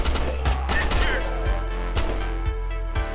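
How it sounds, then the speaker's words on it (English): Machine gun fire from a gunner clearing a room in the tactical game Door Kickers 2, a loud rapid run of shots with regular heavy thumps, dense and close over a booming low background. "Have our machine gunner clear the room from the outside."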